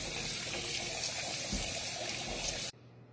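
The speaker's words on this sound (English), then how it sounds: "peel your potatoes, and I give them another good rinse" Peeled potatoes rinsed under running tap water in a kitchen: a steady, fairly close rush of water for almost three seconds that cuts off abruptly, leaving a faint low hum.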